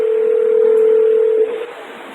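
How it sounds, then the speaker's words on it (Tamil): A loud, steady telephone tone sounds alone while a phone call is being placed, holding evenly before cutting out about one and a half seconds in, leaving a fainter hiss. "அந்த நம்பருக்காச்சும் ஃபோன் அடித்து பார்ப்போம்"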